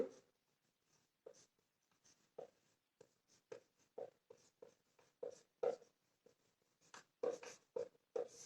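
A pen scratches across paper in quick irregular strokes while notes are taken in a chemistry class, close and quiet, with short pauses between bursts.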